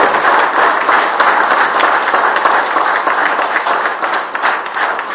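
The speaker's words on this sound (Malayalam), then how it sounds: "നിങ്ങൾ കേരളക്കാരാണ്, മലയാളികളാണെങ്കിൽ ശക്തമായി കൈയടിക്കേണ്ട" An audience at a political speech in Kerala claps loudly and continuously, a dense, even wall of applause filling the whole stretch with no break.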